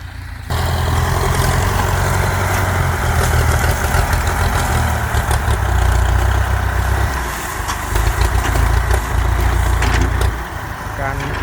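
A Ford T5 sugarcane grab truck's engine runs loud and close, a deep heavy rumble that swells and dips as it is revved, with a voice talking over it.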